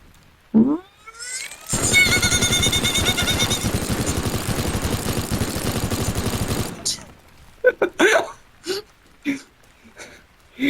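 A voice mimics rapid minigun fire for the game Teardown in a long, loud, rattling burst of several seconds, followed by scattered short vocal bursts and noises.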